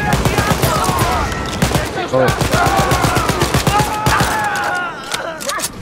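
Heavy gunfire and blasts fill a Wolfenstein: Youngblood fight against a mech, rapid loud automatic bursts and booming impacts layered with in-game voices and a brief exclamation.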